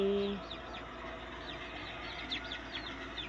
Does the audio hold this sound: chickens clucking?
yes